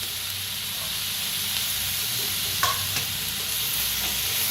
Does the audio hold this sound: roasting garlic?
yes